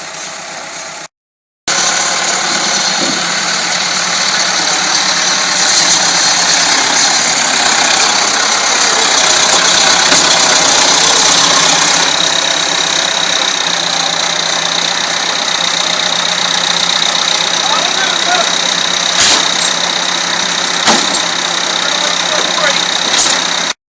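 A Massey Ferguson 690 farm tractor runs with a loud, steady diesel engine drone and a knocking idle, near and continuous after a brief cutout at the start, with a voice heard over it.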